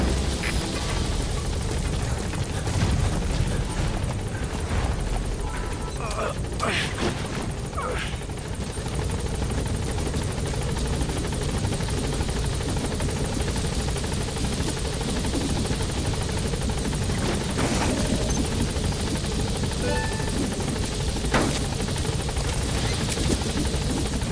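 A support helicopter in the video game Metal Gear Solid V: The Phantom Pain arrives with a loud, continuous rotor thrum and engine roar that holds steady throughout, alongside faint game sounds.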